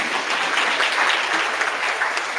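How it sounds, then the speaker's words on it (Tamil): Audience applause fills a tech fair hall, a dense, steady wash of many hands clapping for about two seconds with no voices over it. "அவருக்கும் கொஞ்சம் பாவம் கைத்தட்டி வைங்க ஐயா."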